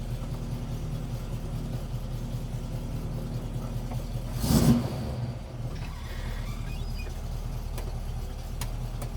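A 1967 Chevy Camaro with a close-ratio Muncie transmission runs with a steady mid-pitched engine drone, swelling briefly into a louder rev burst midway before settling back to an even hum.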